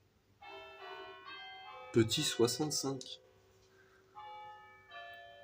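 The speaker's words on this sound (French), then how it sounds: "Avec des petites cloches derrière." Small chiming bells ring in a multiplayer video game match, a bright sustained tinkling layer with harmonic tones that fades in and out, while someone speaks over it in the middle.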